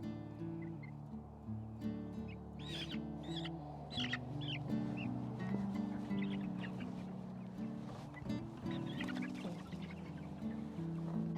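Buff Orpington meat chickens cluck and crow in a coop, several birds calling over one another at close range above a steady low background drone.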